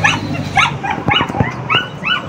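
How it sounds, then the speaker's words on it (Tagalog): A pet dog barks repeatedly in short, loud yaps and yips, closely spaced over a couple of seconds, with no speech. "Maingay yung aking alagang aso rin ay."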